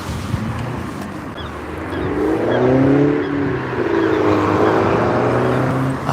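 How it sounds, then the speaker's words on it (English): Cars fitted with pops-and-crackles exhaust maps rev near the coast in Southport, engine notes swelling and sliding up and down at a moderate distance over steady wind buffeting. "Young lads with them cars with the pops and crackles maps on them"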